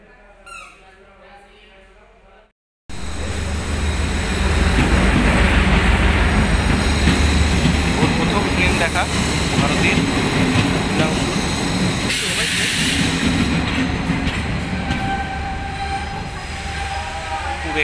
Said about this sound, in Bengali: বাবা এখন ট্রেন ঢুকবে কিন্তু হ্যাঁ আমরা দেখবো ট্রেন